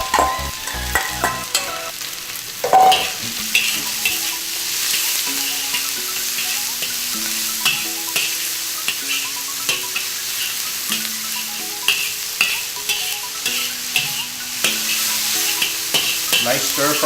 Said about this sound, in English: Nice stir frying, always very enjoyable to cook this